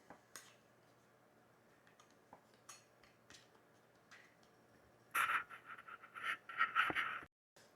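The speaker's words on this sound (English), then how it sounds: "I cut each one into fourths, which take about 2-3 minutes. They cut very fast." A knife cuts raw canned biscuit dough into quarters on a board, with faint scattered clicks and taps at first, then a louder run of quick scraping cuts near the end.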